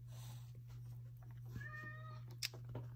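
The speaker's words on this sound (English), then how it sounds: "my kitty is crying at me. She wants her dinner." A pet cat meows for her dinner, giving one drawn-out meow close by over a constant low electrical hum, followed by a few faint taps.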